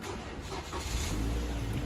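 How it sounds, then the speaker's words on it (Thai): A car engine turns over and catches, settling into a low, rumbling idle close by. "เราทำการสตาร์ทเครื่องนะครับ"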